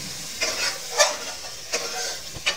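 Mutton and peas sizzle in a pan for a turnip mutton dish, with a steady hiss broken by a few scraping stirring strokes, close up and without talk.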